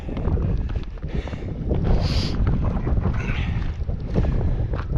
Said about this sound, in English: Wind's clearly picking up.